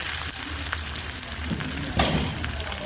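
Four small onions frying in a pan, a steady close sizzle with a brief louder burst near the end and a faint low hum underneath, no voices.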